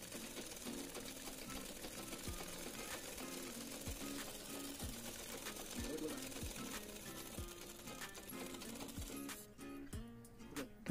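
Quiet, close sewing machine stitching soft velcro around mosquito-net mesh for a window screen, running in a steady rapid mechanical rhythm with brief pauses, while a person talks over it.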